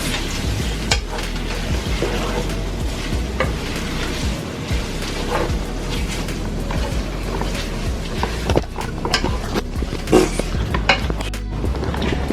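Cajun pasta being stirred in a pan, with repeated scraping and sizzling, and occasional clinks of a utensil against the pan at a close, steady level.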